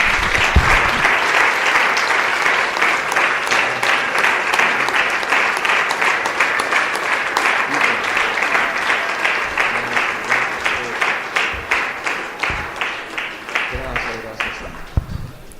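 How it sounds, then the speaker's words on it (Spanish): A church congregation applauds at the close of a Spanish-language worship service, loud sustained clapping that carries on for about fifteen seconds and slowly thins near the end, with voices rising within it. "Démosle un aplauso a nuestro Dios de gloria."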